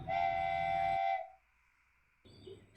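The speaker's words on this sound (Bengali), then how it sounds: "ট্রেন ছুটে চলেছে অজানা গন্তব্যের দিকে।" A train whistle blows loudly for about a second over rolling rail rumble, then fades to quiet before the moving train's noise returns, used as an effect in a Bengali village horror story.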